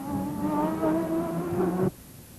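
Race car roaring on a speedway with a sustained, loud engine drone that shifts pitch slightly before cutting off abruptly, leaving quiet background.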